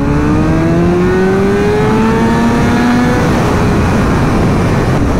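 A motorcycle pulls hard in second gear from about 40 mph, its engine note loud and close, climbing steadily in pitch under heavy wind roar with no speech.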